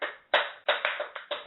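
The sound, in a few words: clapping applause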